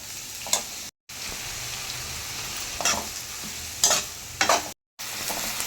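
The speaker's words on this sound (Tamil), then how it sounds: "இப்போ வெங்காயம் போட்டாச்சு இப்போ நல்லா வதக்குங்க எண்ணெயில் நல்லா வதங்கட்டும்" Onions sautéing in oil for mutton uppu kari, a steady hiss with occasional louder scraping stirs, broken by two brief silent gaps.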